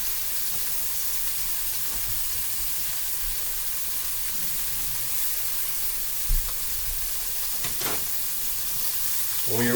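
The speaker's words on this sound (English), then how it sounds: "When your oil for your broccolini is nice and hot, you're going to add 2 cloves of garlic, minced garlic" Two cloves of minced garlic dropped into hot oil in a pan for broccolini, giving a steady, bright sizzle and hiss with a couple of brief clinks of stirring, close and continuous with no talking.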